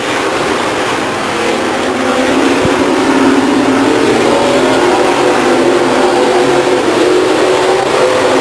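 Ultra Wheel Spec division race cars circle Stockton 99 Speedway at lap 27 of a 1999 oval race, a loud, unbroken engine roar with rising and falling pitch as the pack passes nearby.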